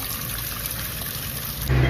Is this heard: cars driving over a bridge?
no